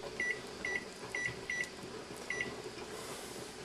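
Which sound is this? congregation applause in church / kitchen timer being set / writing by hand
kitchen timer being set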